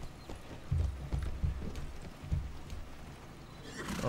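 Horses gallop in a medieval strategy video game, their hooves clip-clopping in uneven bursts of fairly faint, close thuds over a quiet background, with no talking.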